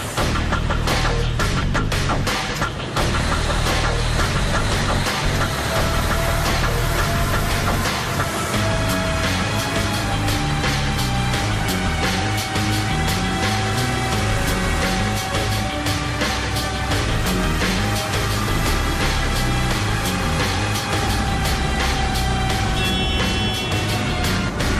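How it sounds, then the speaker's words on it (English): Mercedes truck engine running hard on a roller bench during a maximum speed test in a factory, a loud, steady mechanical roar with rhythmic rolling and clattering throughout, no talk. "Last on their checklist is the roller bench test."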